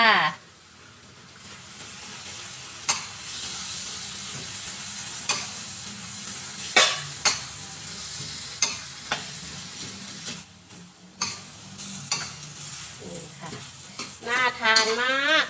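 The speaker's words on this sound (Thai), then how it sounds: "ใส่โหระพาสวยๆของเราลงไปเลยจ้ะปึ๊บ นี่ค่ะ ผัดโหระพาให้สลบจ้า" Thai basil being stir-fried into a spicy seafood curry paste stir-fry, a steady sizzle broken by sharp, repeated scrapes and clanks of the spatula against the pan, with a few louder knocks toward the end.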